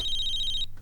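A mobile phone rings nearby with a bright, repeating electronic tone for most of the moment before stopping abruptly.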